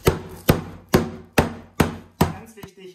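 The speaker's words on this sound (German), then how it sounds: "jetzt klopfen wir unser Fleisch flach. Das kann man natürlich mit einem Fleischhammer machen, ich habe jetzt leider keinen da, deswegen nehme ich hier einfach die flache Seite unserer Pfanne" Schnitzel meat being pounded flat with the flat side of a pan: six sharp, evenly spaced thuds about half a second apart, close and alone, followed by a brief lighter knock.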